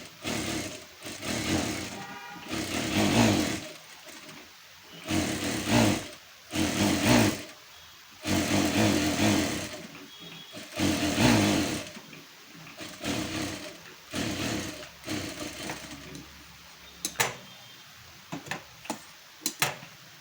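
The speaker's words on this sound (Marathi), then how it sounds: "तर आता पूर्ण अगोदर आपण टीप मारून घेऊया सगळीकडून" A domestic sewing machine stitches around a boatneck neckline on a garment, running in repeated bursts of fast mechanical whirring broken by short pauses, with a few light clicks near the end and no talking.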